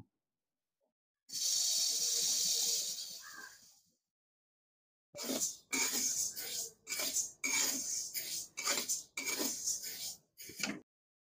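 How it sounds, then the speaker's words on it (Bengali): A soft dry hiss for a couple of seconds, then after a pause a series of scraping, rattling strokes as moong dal is dry-roasted in a pan over low to medium flame. "এবারে আমি শুকনো কড়াইতে মুগ ডালগুলো ভেজে নেব।"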